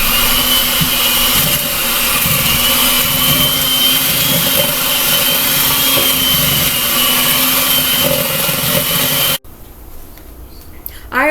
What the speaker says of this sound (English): Now I'm going to cream my butter and sugar with my hand blender.